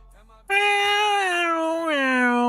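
A cat meows in one long, drawn-out, loud and close meow whose pitch bends and wavers over about two seconds. It follows a short quiet lead-in and comes through as a sound effect.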